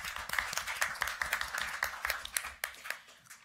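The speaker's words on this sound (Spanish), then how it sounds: "Un aplauso." Audience applause after a speaker on a conference panel, a thin, sparse scattering of claps from a small room, with distinct individual hand claps standing out before it tapers off.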